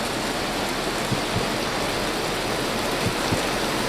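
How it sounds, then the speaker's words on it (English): Hail falls loudly and steadily in a video game, a dense, unbroken wash of drumming noise that fills the whole stretch with no pauses or talk. "this fucking hail is so it's just so loud"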